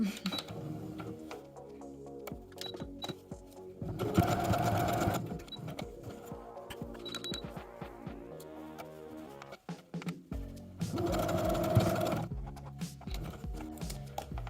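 A sewing machine runs a long basting stitch on a skirt in two fast, steady whirring bursts, close and clear, with quieter handling and a voice speaking between them.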